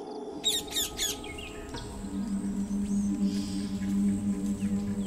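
Parrot squawks as a sound effect: a burst of sharp, harsh calls near the start, followed by a steady low hum and faint chirping under the rest of the clip.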